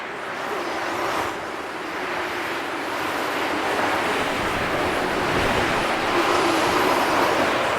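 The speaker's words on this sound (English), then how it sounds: "slowly move up to the ledge to hear the howling wind sound coming" Continuous broad howling wind ambience in the video game Son of Nor blows steadily throughout, rising slightly in intensity toward the end as a ledge is approached, with no voices.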